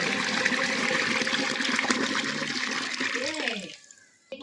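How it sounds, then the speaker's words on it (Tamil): Water pours steadily into a large cooking pot, about 18 litres for a big batch of Dindigul-style biryani, a loud continuous gushing stream that stops abruptly near the end. "இப்போ வந்து நம்ம உலக்கு தண்ணி ஊற்றிக்கலாம்."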